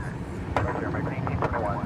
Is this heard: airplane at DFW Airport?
yes